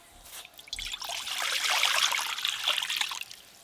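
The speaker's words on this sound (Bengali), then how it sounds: "ডিম ভাপার জন্য এবার কড়াতে জল দিয়ে দেব।" Water pours steadily into a wok for steaming eggs, a bright continuous trickle and splash building over a few seconds, close and moderately loud with no talking.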